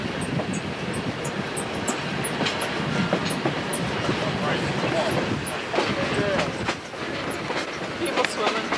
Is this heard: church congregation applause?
no